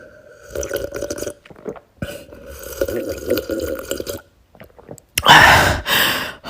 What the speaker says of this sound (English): Let me sip on some of this water.